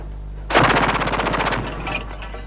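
A captured multi-barrel weapon at a captured base fires a loud, close burst from one barrel only, a rapid rattle of shots lasting about a second, then a brief echoing tail.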